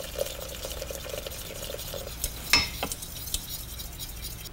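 Lager beer being whisked into a cheese sauce, a soft continuous swishing with faint clinks of the whisk against the pan and one louder knock partway through.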